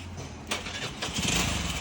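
An engine cranks with a quick whirring burst, then catches and sputters into a rough, close running rumble.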